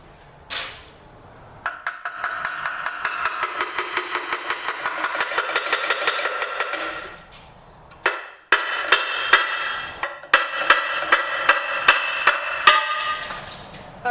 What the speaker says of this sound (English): Let's see if I break it with a hammer.